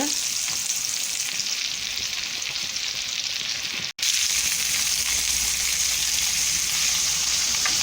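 Vegetable köfte meatballs sizzling on a grill over medium heat, a loud, steady close-up hiss and crackle that briefly cuts out midway, then resumes with a low rumble beneath, with no voices.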